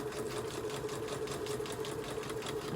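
A sewing machine hums steadily and stitches around the edge of a journal page, a close, continuous mechanical whir with a fast regular needle rhythm and no talking.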